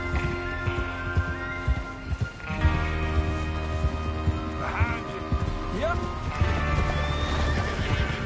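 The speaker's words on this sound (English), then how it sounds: "Get your horses ready." Horses galloping in Red Dead Redemption 2, steady clip-clop hoofbeats with repeated neighs and whinnies over a musical game score, fairly loud and continuous.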